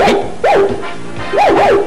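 A dog gives a few short, whiny yelping barks in quick bursts, close by, with a brief spoken word in the middle.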